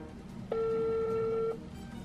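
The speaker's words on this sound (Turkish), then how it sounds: "Şu an çalıyor." An outgoing phone call rings, heard as a single steady ringback tone lasting about one second over faint room noise.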